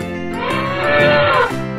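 A cow gives one loud, drawn-out moo that rises and then falls. The call is close and lasts under two seconds, with no voices over it.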